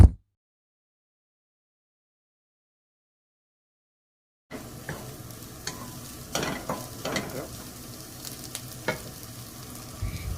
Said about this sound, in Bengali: আলুর ভিতর সামান্য একটু লবণ আর একটু হলুদ দিয়ে আমি ভালো করে ভেজে নেব।